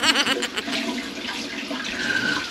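Tap water runs in a steady splashing stream while a kitchen knife is rinsed, close and moderately loud for a couple of seconds.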